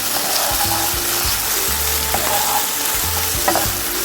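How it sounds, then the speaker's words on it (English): Corn browning in a pan with purslane folded in, a loud continuous sizzle broken by repeated close scrapes and knocks of a utensil stirring against the pan. "as I'm trying to get the corn to brown, and just fold that purslane in with that"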